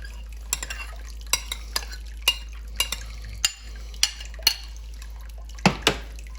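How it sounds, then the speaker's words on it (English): A spoon stirs onions and mushrooms into a beef stroganoff sour cream sauce, giving a dozen or so crisp clinks and scrapes against the pan, close and clear over a low steady hum. "Let's go ahead and add our onions and mushrooms back to this."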